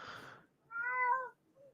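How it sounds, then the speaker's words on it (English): A house cat gives a single clear, close meow after a brief noisy rustle, followed by a faint short trailing mew. "I heard the cat."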